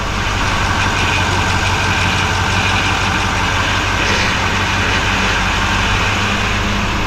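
A 2024 Chevrolet High Country Duramax diesel pickup idles loudly and steadily up close, a constant rumbling drone with a noisy power steering whine mixed in.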